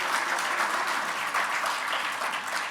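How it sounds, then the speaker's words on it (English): An audience at a comics festival evening event, CXC 2022, claps continuously, a dense, even wash of applause that stays at steady volume without breaks. "Can we give them a round of applause?"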